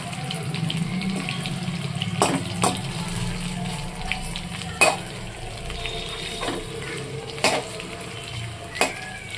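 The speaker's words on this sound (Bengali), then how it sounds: "এগুলো একটু ঝাল দিয়ে ভাজছি" Spicy pakoras fry in oil with a low, steady sizzle, punctuated by several sharp clicks and knocks from a utensil in the pan. Nobody talks.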